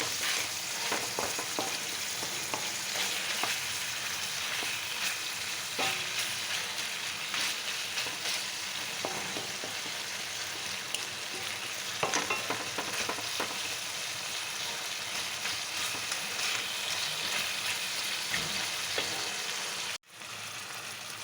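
Chicken coated in masala fries in oil, giving a steady, dense sizzle for about twenty seconds, broken by occasional stirring scrapes and one brief dip near the end.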